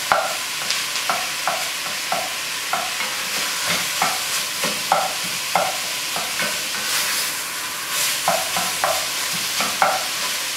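Ground meat browning in a pan while a utensil repeatedly breaks it up, with regular sharp scraping and tapping strokes over a constant sizzle, close and fairly loud, no talking.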